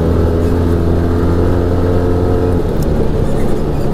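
Arctic Cat Wildcat Trail XT side-by-side engine droning steadily inside the enclosed cab with windshield and roof fitted, a loud continuous low hum that eases slightly near the end.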